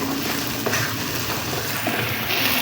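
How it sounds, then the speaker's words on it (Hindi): Onions fry slowly in a pan over medium heat along with cardamom and cloves, a dense, steady sizzle close by with a few faint clinks of stirring, and no voices. "चलो ये देखिए माशाल्लाह से प्याज हमारा आस्ता आस्ता भून रहा है दरमियानी आंच पे"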